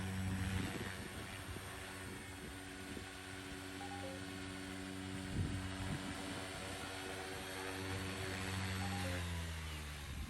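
The motor of a Goblin Raw 500 RC helicopter runs with a steady, tonal whine and a faint, even hum, holding pitch for several seconds before shifting slightly toward the end.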